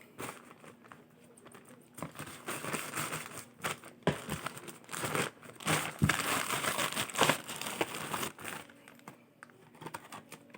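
Crinkling plastic packaging torn and handled while a package holding a Master Torch blowtorch is opened with scissors, crisp irregular rustles and crackles rising and falling close up over about ten seconds, no talking.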